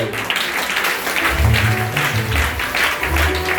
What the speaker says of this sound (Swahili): Wapigieni makofi hao mama ambao